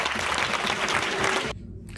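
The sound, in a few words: audience applause at end of Edinburgh Fringe comedy set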